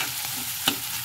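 Spices and garlic sizzle steadily in a hot pan while a spoon stirs and scrapes, with one sharp clink of metal, while making a tadka for paneer curry.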